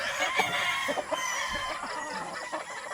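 Broodstag roosters at a gamefarm cluck and call continuously, with several birds close by over steady farmyard background noise and no talking.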